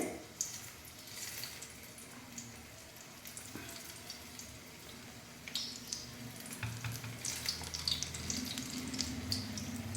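Rayalaseema vaggani baggi frying in hot oil, a soft continuous sizzle and bubbling at low level with light scraping and stirring noises over it, no talk.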